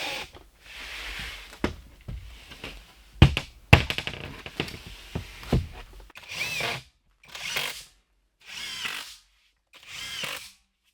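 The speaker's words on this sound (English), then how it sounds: "get my impact driver out, and start putting some screws in" An impact driver sinks screws into maple plywood sheets for workshop walls, bursts of whirring and rattling hammering with knocks and taps between, ending in several short separate driving bursts with silence in between.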